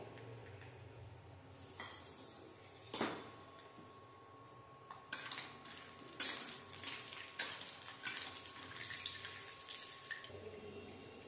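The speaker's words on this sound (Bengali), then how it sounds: "ফার্স্টে আমি এখানে বড়িগুলো ভেজে নেব। দিয়ে দিলাম বড়িগুলো।" Lentil bori hit hot oil in a pan and fry with crackling sizzles that flare in bursts and settle, alongside occasional clatter, with no talking.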